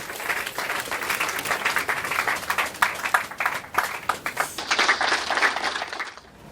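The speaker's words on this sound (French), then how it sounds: "Est-ce qu'on peut applaudir encore très très très fort, s'il vous plaît?" Audience at a formal event in the DRC on environmental justice breaking into loud, sustained applause, dense clapping that swells and holds for several seconds before stopping abruptly.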